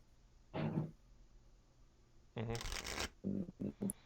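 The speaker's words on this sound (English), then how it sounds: "And I shouldn't have shuffled my deck now" A deck of Star Trek collectible game cards is shuffled in short riffling bursts, close by, during a tabletop match, with several quick shuffles toward the end.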